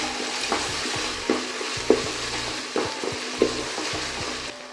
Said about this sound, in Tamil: அதே மாதிரி புதினா, மல்லி, 2 பச்சை மிளகாய். இப்போ இது எல்லாத்தையும் நல்லா கிளம்பிட்டுக்கலாம்.